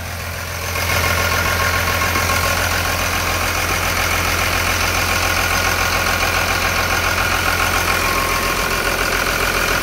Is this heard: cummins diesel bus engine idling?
yes